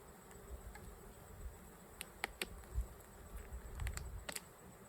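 Honeybees packed into a crowded hive of stacked boxes hum in a soft, continuous buzz, with a few individual bees zipping close past in brief, sharper passes.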